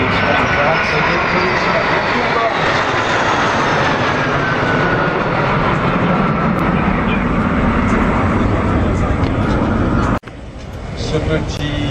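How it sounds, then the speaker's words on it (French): A small vintage collector jet flies over an air show, its steady, loud roar sweeping past with a dropping whine, while an announcer speaks over it throughout. "ce petit jet de collection qui aujourd'hui vole à un exemplaire unique"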